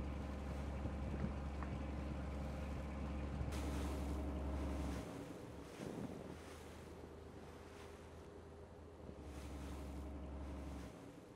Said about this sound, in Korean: 프놈펜에서 똠레삽 호수를 가로질러 시엠리까지 5시간 만에 도착할 수 있는 스피드보트는 굉장히 유용한 교통수단이 되었는데요